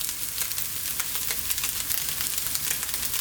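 Chicken broccoli fried rice fries in a wok on maximum heat, giving a loud, continuous crackling sizzle with dense spitting pops and no talking.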